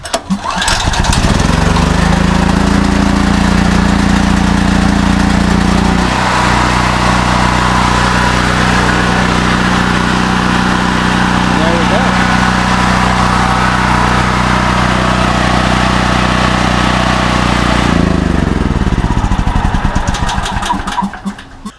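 Gas generator converted to run on propane is pull-started and then runs steadily, a loud, close engine drone with an idle-like hum that shifts pitch early on before settling, and cuts off near the end.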